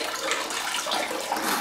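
Water gushing steadily out of a washing machine's emergency drain, a close, continuous splashing rush of draining water with no talk.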